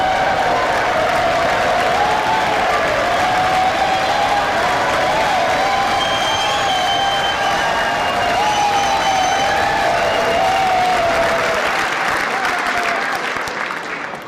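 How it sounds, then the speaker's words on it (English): Sustained applause fills a congressional chamber, loud and continuous for over ten seconds with cheering voices mixed in, tapering off at the end. "Thank you for that very generous applause."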